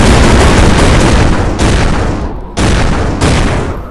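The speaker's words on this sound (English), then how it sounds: "Shotgun." Shotgun blasts in a video game, loud and close, with a dense booming roar cut by two sharp follow-up shots that each decay into a rumble.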